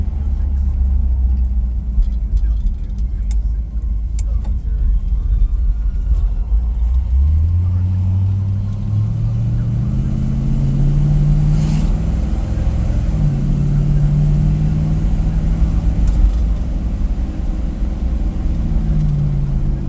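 A 1958 Chevrolet Impala with an overdrive transmission pulls away, its engine a loud, steady rumble that rises in pitch and then drops several times as it shifts up through the gears, heard from inside the car.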